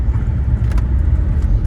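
Steady low road and engine rumble from inside a moving truck, with a few faint rattles on top.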